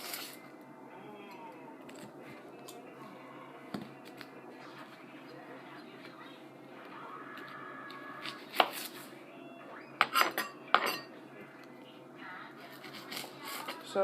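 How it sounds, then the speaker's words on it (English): A knife cuts small onions on a cutting board with sparse taps and sharper clustered chops near the end, quiet at first then louder, against a low background hum. "Now I'm going to cut some onions."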